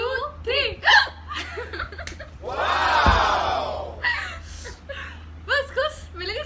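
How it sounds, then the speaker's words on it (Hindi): Several people in a hiccup challenge with friends produce a burst of hiccup-like gasps and vocal yelps, mixed with laughter and excited shouting, loud and close throughout. "रुको हवा आएगी हिचकी देखना"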